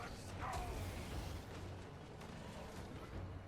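A Soul Grinder war machine in Total War: Warhammer 3 grinds forward amid a siege battle, with creaking mechanical clanks and low rumbling booms, fairly faint and alone.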